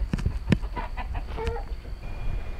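Several chickens cluck close by in their coops, a steady run of short, overlapping clucks and calls with no talking.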